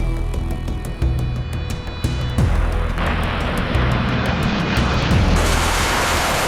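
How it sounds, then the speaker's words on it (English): P-51 Mustang WWII fighter plane flying, a steady loud propeller engine drone that thickens and grows brighter over a few seconds, with no voices. "Howard guided his battered Mustang back to base."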